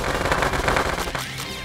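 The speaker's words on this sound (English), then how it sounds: "The cool thing is the machine gun fire is actually quite good" Rapid machine gun fire from the Nintendo Switch video game Panty Party, a dense continuous burst of loud shots that holds for over a second, then thins out as electronic swoops and game effects take over near the end.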